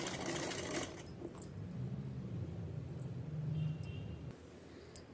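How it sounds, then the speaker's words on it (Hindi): A sewing machine runs a line of stitches along a narrow folded fabric strip for a small doll dress, quiet and close, in a continuous stretch that stops near the end with a few faint clicks. "चलिए इसमें हम सिलाई लगा लेते हैं।"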